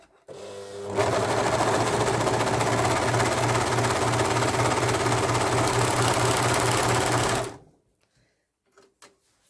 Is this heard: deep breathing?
no